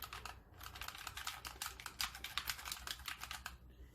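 Rapid, dense clicking of buttons on a PowerA Nebula wired controller during a Fortnite match, a steady close-up clatter resembling a membrane keyboard, alone with no talk.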